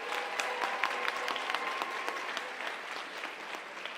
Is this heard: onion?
no